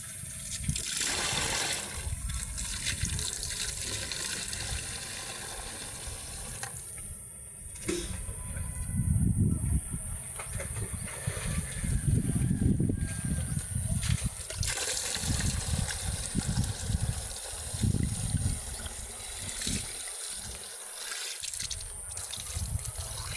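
Water sloshes and trickles repeatedly, pouring and splashing in uneven bursts as a bucket is filled and drawn, with steady noise throughout.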